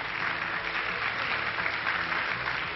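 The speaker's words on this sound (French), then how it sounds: "vous pouvez applaudir le créateur des voitures dont nous vous parlons depuis tout à l'heure, monsieur Charbonneau" An audience applauds Monsieur Charbonneau, designer of the Renault 8 cars, with steady, dense clapping that fills the room evenly from start to finish.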